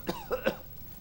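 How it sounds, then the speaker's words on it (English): A character in a Resident Evil 7 cutscene coughs three times in quick succession, short rasping bursts close up, followed by a brief quiet tail. "she was still coughing in the cutscene"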